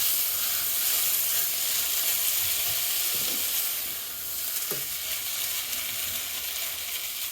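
Tomatoes sauté in a pan for South Indian gotsu, giving a steady, soft broadband sizzle with faint stirring scrapes. The sound is close and continuous, with no voices.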